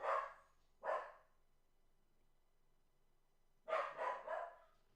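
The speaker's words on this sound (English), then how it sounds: "He's in there barking." A dog barks indoors, close by: two sharp barks, a pause of a few seconds, then a quick burst of three more barks.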